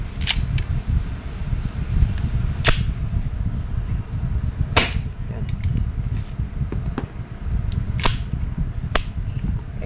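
An Umarex Colt M45 CQBP CO2 airgun fired in a series of sharp, close cracks spaced unevenly about a second or two apart, over a steady rumbling background.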